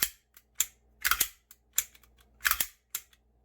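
Mechanical clicks and snaps from a handgun during a function test after cleaning, trigger pulls and the slide racked, a close sequence of sharp metallic clacks with brief pauses and no talking.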